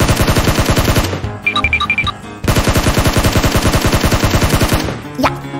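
Rapid automatic gunfire in PUBG, loud and close, sounding as two long bursts with a short pause between them and a few game interface chimes in the gap.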